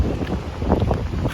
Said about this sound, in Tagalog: Malakas ang hangin pa sa way.